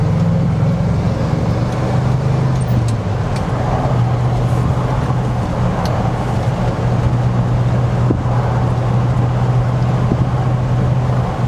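A 1980s pickup truck cruising along, its engine a steady low drone with constant road and wind rumble, loud and unbroken throughout with no talking.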